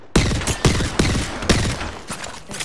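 Gunfire in the battle royale shooter Apex Legends, loud shots in a regular rhythm about half a second apart over dense, continuous noise, close and with no talking.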